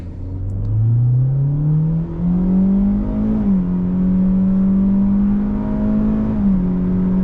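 A 2024 Hyundai Elantra SEL's engine revs up steadily from low to high pitch as it accelerates from a stop, shifting gears twice, loud and close with no talking.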